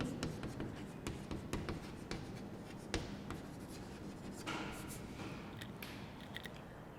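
A pen scratches and taps on paper while a science ray diagram is drawn, a close, quiet run of quick strokes and ticks with no voices.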